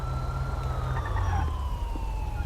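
Police car siren in GTA5 with the LSPDFR mod, a wailing tone sweeping steadily over a low engine rumble, loud and continuous throughout.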